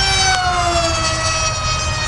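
RC model MiG jet at full throttle, a loud continuous high-pitched turbine whine with a tone that falls slightly as it passes, over steady rushing noise.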